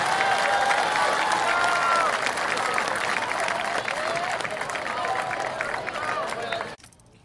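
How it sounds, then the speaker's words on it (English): Audience applause for Milton High School JROTC cadets at a band and ROTC senior night, a steady, dense wash of clapping from a large crowd that carries on throughout and falls away near the end. "let's have another round of applause for these fine young men and women from Milton High School in"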